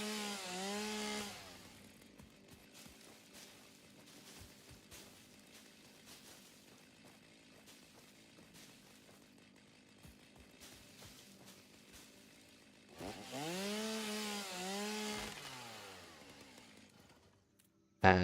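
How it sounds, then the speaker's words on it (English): Chainsaw cutting down trees in a plains landscape, two loud bursts of revving engine whine at the start and near the end, with a quieter idling rumble between them. "maybe I get my chainsaw out, take down some of the stuff around here"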